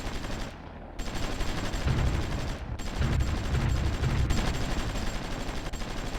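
Rapid artillery and gunfire in the strategy war game Supreme Ruler Ultimate come as a dense, continuous rattle of shots with brief dropouts, fairly loud with no voices.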